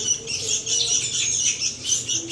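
Bright, repeated sooty-headed bulbul chirps and short calls, fairly close, over a low background hum.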